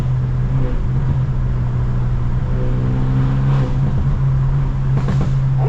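A straight-piped, Stage 2+ BMW 320i drones loudly from inside the cabin with a steady low exhaust hum, broken near the end by a few sharp crackling pops.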